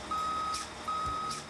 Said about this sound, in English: All surface mine equipment has backup alarms.